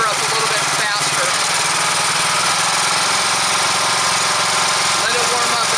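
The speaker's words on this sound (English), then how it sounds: "now I can turn the motor up a little bit faster" A Dewalt 3835 pressure washer engine used for wet blasting runs loud and steady with a droning, vibrating tone as its throttle is opened up, with a voice talking over it.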